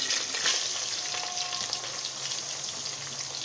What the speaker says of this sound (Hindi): लाल होने तक हम इसको भूनेंगे।